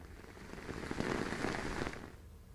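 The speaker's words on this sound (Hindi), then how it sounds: "रांची में झमाझम बारिश हो रही है" Heavy rain pours down in Ranchi, a steady dense hiss of drops drumming on surfaces, swelling louder through the middle and easing slightly toward the end, with no voices over it.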